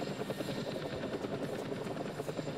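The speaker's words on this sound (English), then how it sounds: "I think Himes is in the helicopter" Helicopter in the ArmA 3 military video game, with rotor blades thumping in a fast steady rhythm at a moderate distance, the drone continuous throughout with no talk over it.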